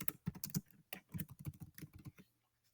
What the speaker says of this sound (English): you will type your name